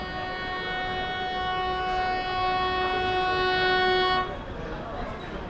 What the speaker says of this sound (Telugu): మనం తీసుకెళ్ళబోయే ట్రైన్ అయితే వచ్చేసింది.